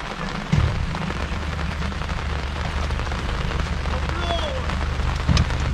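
Steady rain falls throughout, close and broadband, during a fishing trip in the Danube Delta, with a low hum beneath it and a couple of brief thumps near the start and end.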